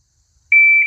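A single sharp electronic start beep from a Pact Club shot timer, used with an FN Reflex 9mm pistol outdoors, sounds after a short silence and holds steady for about half a second before cutting off.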